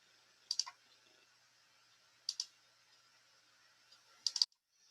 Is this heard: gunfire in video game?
no